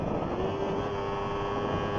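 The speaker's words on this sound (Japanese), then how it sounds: "ショートマフラーから吐き出される排気音、聞こえるでしょうか。" A 2014 Yamaha YZF-R25 motorcycle exhaust from a short muffler, ridden at speed, holds a steady, close engine drone mixed with rushing wind noise.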